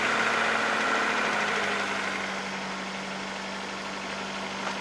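An RV engine, just refilled with coolant after a repair, runs at a steady idle with a low, even hum and a faint mechanical rattle, close and uninterrupted.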